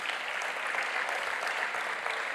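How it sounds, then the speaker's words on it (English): A conference audience applauds a panel and facilitator with dense, continuous clapping that stays loud and even throughout. "Let's give the panel and the facilitator a last round of applause."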